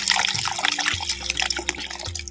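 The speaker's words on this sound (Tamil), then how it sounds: "நெல்லிக்காய் ரசத்துக்கு தேவையான பச்சை தண்ணி இரநூறு மில்லி தண்ணி வந்து சேர்த்துக்குவோம்" About 200 ml of water poured into a pan of amla (gooseberry) rasam, a close, splashing, trickling pour lasting a couple of seconds.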